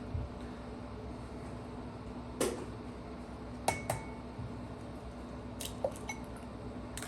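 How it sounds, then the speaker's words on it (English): Eggs cracked one after another into a bowl of wet ingredients for a breakfast bake, giving a few sharp clinks and taps against the bowl over a steady low kitchen hum. "2 eggs is next. Right into your wet bowl."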